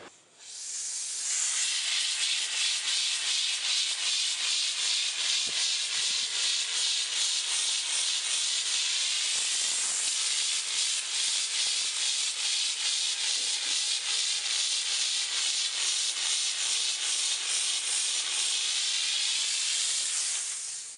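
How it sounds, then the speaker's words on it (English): Dupray Tosca steam cleaner working over grout and tile, a loud, continuous, hissing jet of steam with faint scrubbing texture that holds steady for the full stretch. "today we're going to go through using a steam cleaner to clean your grout and tile"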